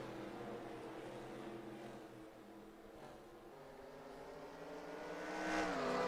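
Simulated NASCAR stock cars lapping Bristol in the NASCAR Racing 2003 video game, a continuous droning engine roar from several cars that rises in pitch and swells louder near the end, with no voices.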